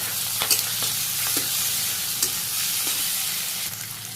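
Fish frying in a pan with onion and green chili gives a constant close sizzle, with sharp scraping clicks from stirring at irregular intervals, no talk.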